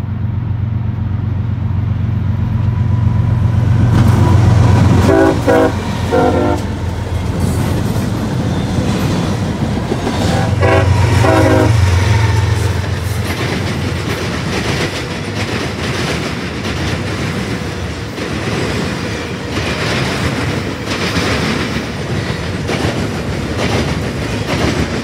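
A CSX intermodal freight train led by two GE Evolution-series locomotives and an SD70ACe passes close by, sounding its horn in two long blasts over a loud, continuous rumble and clatter of rolling cars.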